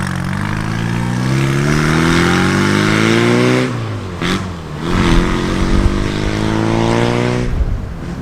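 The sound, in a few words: classic BMC car with A-series engine and loud side pipe exhaust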